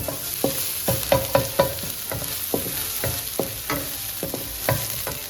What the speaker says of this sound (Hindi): इसको थोड़ा सा इसी तरह भूनेंगे, थोड़ा सा लहसुन का कलर चेंज हो जाए